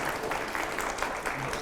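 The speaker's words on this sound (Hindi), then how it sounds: "बच्चे ताली बजा रहे हैं" Children clapping at a political press event, a steady, even patter of applause throughout, fairly loud and without pauses.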